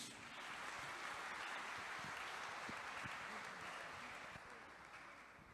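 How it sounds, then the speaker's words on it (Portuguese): A church congregation claps together for several seconds, a dense continuous applause heard from a distance that slowly fades toward the end. "dá um aplauso aí para Jesus"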